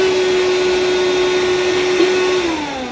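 A VacLife VL106 cordless handheld vacuum runs with a steady, fairly loud motor whir and a constant whining tone. The pitch dips slightly near the end, with no voices.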